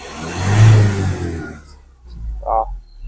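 Ford Transit 2.2 engine revving as the accelerator pedal is pressed, a loud surge that peaks early and fades, followed by a shorter, quieter second rev.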